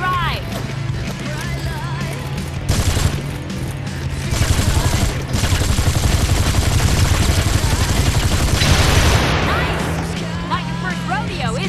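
Rapid automatic gunfire shooting at pursuers during a vehicle chase in the Gangstar Vegas video game, sustained loud bursts of shots over engine noise, with a brief pause midway before the firing resumes.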